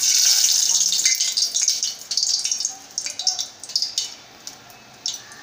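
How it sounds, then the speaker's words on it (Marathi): Asafoetida hits hot oil for a tadka, bursting into a loud close hiss that fades over several seconds into scattered crackles and pops. "आता इथे आपल्याला फोडणी द्यायची आहे।"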